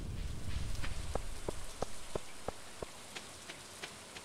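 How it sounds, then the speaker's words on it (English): Rain falls in the farming video game Stardew Valley, a steady soft patter with a regular series of distinct droplet taps spaced about a third of a second apart, fairly quiet throughout. "because it's raining"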